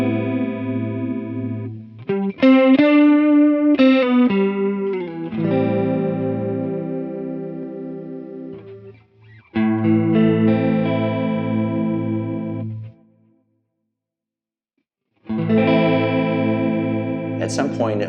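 Electric guitar chords played through a Mooer Pitch Box pitch-shift pedal set to a strong detune, giving a wobbly, out-of-tune chorus-like shimmer; several ringing strums separated by pauses and a short silence, loud and close.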